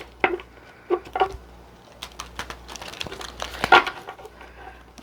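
Tarot cards being shuffled by hand for a reading, giving soft crinkly riffling bursts and light papery taps at close range, irregular and fairly quiet with no talking.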